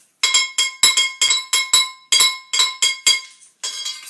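Saucepans struck as percussion instruments in a group music session, about a dozen bright ringing metallic clanks in a steady rhythm, close and loud with short decays.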